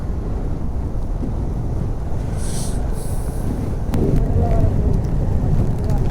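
Strong wind gusting along a forest road near Maredumilli, roaring loudly and continuously against the microphone with low rumbling buffeting throughout.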